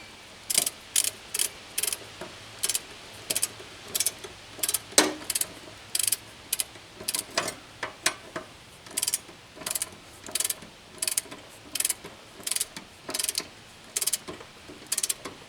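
Torque wrench ratcheting on a bolt of a Briggs & Stratton 4HP lawn mower, set to 60 pounds, with a steady run of sharp close clicks in regular bursts of even strokes, alone without talk.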